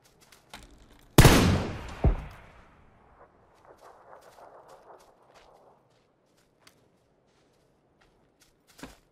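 A single loud MK-14 rifle shot in PUBG cracks sharply and rings out with a long decaying tail, followed by a second softer report, then light scattered clicks and footsteps in a quiet setting.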